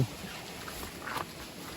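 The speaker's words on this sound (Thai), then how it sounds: "แล้วก็ตอนนี้ฝนก็ตกอย่างต่อเนื่อง" Steady rain falls near an abandoned waterfall, a faint, even hiss of soft patter that runs unbroken with no voices and no distinct drops standing out.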